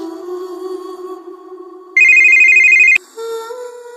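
A phone rings loudly and close with an electronic ringtone, a steady tone that jumps to a higher chime partway through and then a new note, with no voices.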